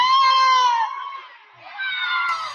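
A crowd of children shouting "yeah" together, a long high sustained cry that dips and then swells again into a second shout, fairly loud and close.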